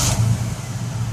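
A 1994 Chevy Astro van with 122k miles starts up, its engine settling into a steady, close, low rumble that holds for a moment with no one talking.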